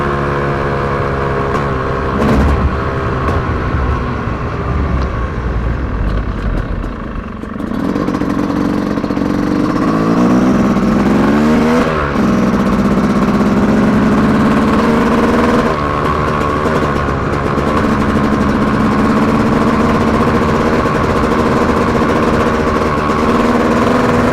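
A 2025 Yamaha YZ250X two-stroke dirt bike engine revs in third gear, loud and close, its buzzing pitch rising and falling through several pulls with a brief dip midway.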